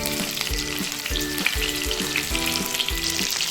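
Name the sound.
chicken kofta meatballs deep frying golden in oil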